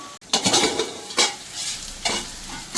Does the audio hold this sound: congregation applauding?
no